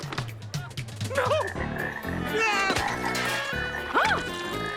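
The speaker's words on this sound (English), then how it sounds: "We have some frogs here for you. Lots of frogs." Cartoon frogs croaking in a lively animated kids' show, several warbling, bouncy croaks stacked over music, with a cartoon character's voice talking alongside.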